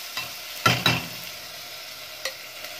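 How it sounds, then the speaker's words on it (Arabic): Freekeh sautéing in ghee in a pan, with a soft steady sizzle and a few quick spoon scrapes and clinks as it is stirred. "ونشوح ايه الفريك اهو، نديله ايه تشويحه علشان يتشرب من السمنه"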